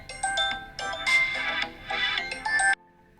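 Telephone ringing with repeated bursts of electronic ringtone, fairly loud and close, stopping abruptly near the end.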